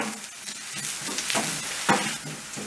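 Onions fry in a pan for a Turkish restaurant-style tas kebab, a steady crackling sizzle broken by a few short stirring scrapes, close and fairly loud.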